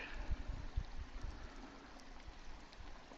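A small year-round creek flowing through logged woodland, a faint, steady trickle and gurgle of running water heard close and alone throughout.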